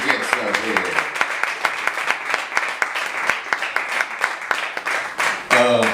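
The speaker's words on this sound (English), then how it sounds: "And keep clapping until he gets up here" A crowd applauds at a New York City open mic poetry night, with dense clapping holding steady for several seconds and a voice rising over it near the end.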